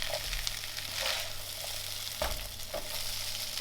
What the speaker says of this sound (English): we just need to sort of heat this rice up and wait for the egg to cook as well